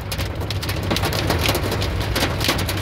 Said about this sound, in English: Oh, is that hail? Oh, that's hail. It's getting bigger.